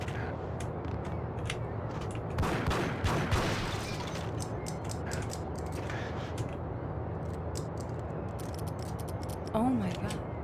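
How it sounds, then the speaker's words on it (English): Enemy gunfire in Max Payne, a series of sharp, snappy shots scattered irregularly at moderate volume, some in quick clusters, with someone speaking at times. "how is he shooting me from up there?"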